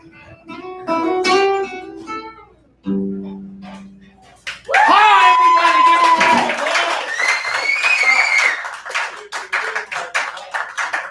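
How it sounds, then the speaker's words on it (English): Audience clapping and cheering at a live stage show, bursting in after singing and swelling into loud, dense applause with crowd shouts for several seconds before thinning into scattered claps. "Give him a round of applause, right?"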